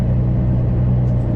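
A diesel truck idles and rolls through a yard, a steady low engine rumble, close and even throughout the short stretch.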